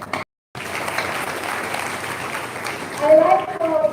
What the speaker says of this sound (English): I'll give a good round of applause for all the children who came and spoke here